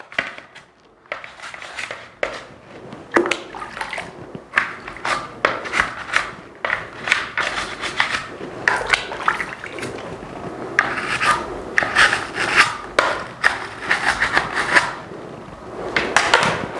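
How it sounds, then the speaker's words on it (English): A toothbrush scrubs inside the vent holes of a skateboard helmet, giving close, continuous rapid rasping and rubbing strokes with brief pauses and shifting intensity throughout. "I'm also going to use this now clean toothbrush to rinse out anything that might be in these holes"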